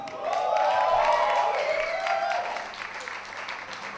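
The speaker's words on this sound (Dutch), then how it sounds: "Mag ik van jullie een daverend applaus" A concert crowd in Tilburg breaks into applause, dense clapping and cheering that swells quickly, peaks with whoops and whistles, then gradually eases off over a few seconds.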